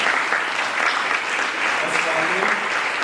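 An audience at an education and AI event applauds the session moderators with steady, full clapping that carries on for a few seconds, with faint voices mixed in underneath.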